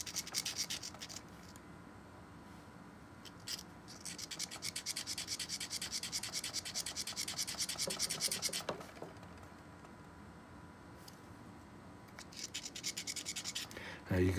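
Glass crystal clarinet mouthpiece being sanded with 320 grit paper: repeated close, quiet rubbing strokes in bursts with short pauses, alone without talk.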